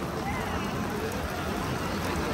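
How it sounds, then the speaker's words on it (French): Heavy rain pours outdoors as a dense, even hiss, close and loud and unbroken throughout, with no clear talking in the clip. "Ah là, il pleut sa mère, tu veux le parapluie?"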